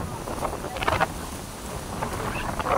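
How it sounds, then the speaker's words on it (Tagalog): Strong typhoon wind roars steadily in a constant broadband rush across the microphone, with a few brief louder gusts. "Lakas ng hangin, kita nyo naman, dinig na dinig nyo naman, lakas ng hangin"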